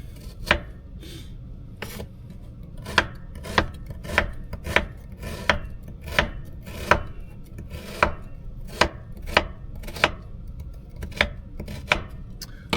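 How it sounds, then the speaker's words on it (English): Frozen onions being chopped with a knife on a cutting board: a steady series of crisp, close knife strikes, roughly twenty sharp chops evenly spaced, with no talking. "So yeah, I'm chopping the onions."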